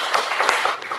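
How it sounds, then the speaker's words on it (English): Church congregation clapping for the clergy at a hospital children's ward unveiling: brisk, steady applause from many hands, close and fairly loud for about a second. "I remind us to once again clap for the clergy"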